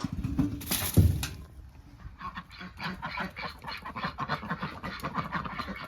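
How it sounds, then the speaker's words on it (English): Ducks on a smallholding quacking in a busy, overlapping chorus, close and fairly loud, with a louder honking burst near the start followed by steady chattering quacks throughout. "Those ducks will be fine just there."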